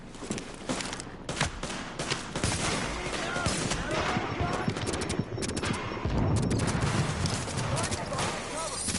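Dense gunfire rattles through a firefight in The Division, rapid automatic bursts layered with shouted voices and game chatter.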